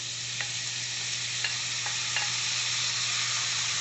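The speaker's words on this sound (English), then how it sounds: "Push them in, it'll start sizzling." Tomatoes pushed into a saute pan over a garlic and onion mixture give a steady, close sizzle and hiss, with a few faint clinks of utensils and no talking.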